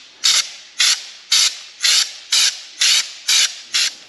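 Short spray-gun bursts of MIPA Protector coating hit an old piece of sheet metal in a test, eight even hissing blasts about half a second apart, close and fairly loud with brief quiet gaps between.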